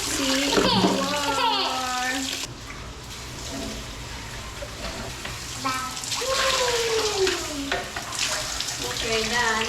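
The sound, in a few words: child being washed with warm water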